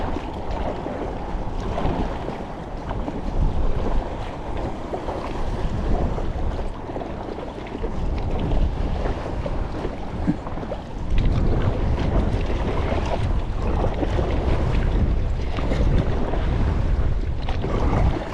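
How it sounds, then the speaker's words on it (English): Steady wind buffeting a kayak paddled against the current through rough, whitecapped water among rocks, with a continuous broadband rush and low rumble that swells louder in the second half, no voices. "Paddling against the wind, against the current."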